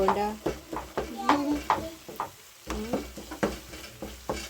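Tomatoes being mixed with a wooden mingling stick in a pot while cooking egg stew, rhythmic scraping strokes over a light sizzle, with a person talking over the stirring.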